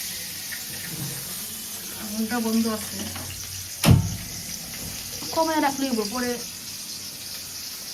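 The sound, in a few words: water poured into a pan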